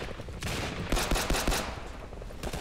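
Rapid video game gunfire crackles in a fast burst of sharp shots, loud and close, followed by a few scattered single shots.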